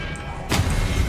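Expelliarmus disarming spell cast in the Hogwarts Legacy video game, landing as a sudden loud magical blast that bursts in midway and rumbles on as a sustained crackling roar.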